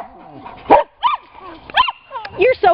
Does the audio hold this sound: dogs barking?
yes